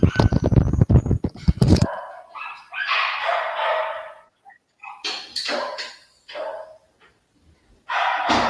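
Neighborhood dogs bark intermittently, with several separate yapping bursts spread through the stretch at moderate distance, preceded by a rapid series of loud clattering clicks close by.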